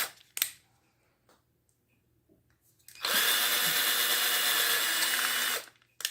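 A handheld power drill whirs steadily for about two and a half seconds after a few quiet handling clicks, close and fairly loud, then winds down, with no talking.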